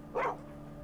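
A single short bark comes from a dog attacking in the video game Skyrim, quick and fairly faint, with no voices.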